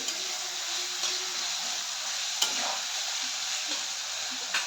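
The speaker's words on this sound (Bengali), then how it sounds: "এটা কিন্তু আমরা লো ফ্লেমে ভাজবে" Goat meat frying over a low flame in a pan gives a steady, even sizzle close by, with a couple of faint clinks from a utensil and no talking.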